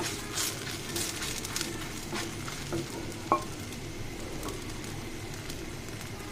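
Paratha frying in oil in a pan, a steady soft sizzle running throughout with a few faint scraping knocks and one brief sharper clink midway.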